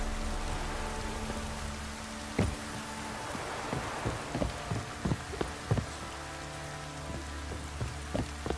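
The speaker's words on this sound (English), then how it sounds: "Looks like rain." Steady rain falls in The Witcher 3 with a broad hiss, while sharp drips and cracks recur irregularly over a low ambient hum. No rumble of thunder stands out.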